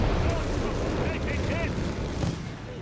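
A Sherman tank exploding amid howitzer fire in Company of Heroes 3, a loud dense roar of blasts and gunfire rolling across nearly three seconds with a voice speaking over the battle noise.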